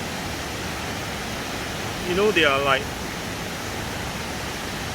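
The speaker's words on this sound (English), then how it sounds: "See, the waterfall is coming from that side. The water is rushing down from here." Waterfall water rushes down as a constant broadband roar, close and steady throughout, with a brief burst of speech over it midway.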